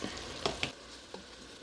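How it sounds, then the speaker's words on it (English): Mushrooms and onions saute in melted butter with a steady close sizzle, broken by a few sharp clicks and scrapes as the pan is stirred, quiet and with no talk. "We're gonna let that butter melt and get everything sauteed."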